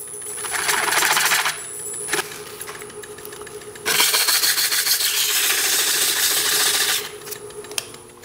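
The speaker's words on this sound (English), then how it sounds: "it's important to do a little bit of sanding on this rim" Sandpaper rubs against the ragged rim of a still-wet wooden container spinning on a woodturning lathe over a steady motor hum. A short raspy burst is followed by a pause, then a longer, louder stretch of sanding.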